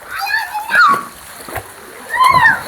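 Children splashing and playing in knee-deep floodwater in a village after a heavy downpour, a few sloshing splashes in bursts with children's voices and talk over them.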